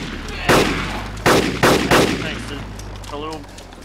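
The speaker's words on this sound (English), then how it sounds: "Whoa, AK fire." Several sharp AK rifle shots ring out in a video game, loud and close, spaced unevenly over a few seconds, with a faint voice and low steady hum underneath.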